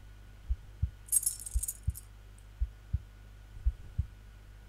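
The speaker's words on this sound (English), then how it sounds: "I'm not sure what I think of this heart beating" A slow, steady video game heartbeat thumps low and regular, roughly one beat per second, over a faint hum, with a brief high hiss early on.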